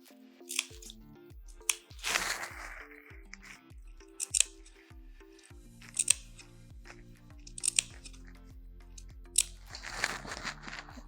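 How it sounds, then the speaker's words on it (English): Scissors snip into the fabric seam allowance at the curve of a dress back: a series of short, crisp cuts at a steady pace, close and fairly quiet, with faint rustling of fabric between them. "snip into the seam allowance at the curve of the back"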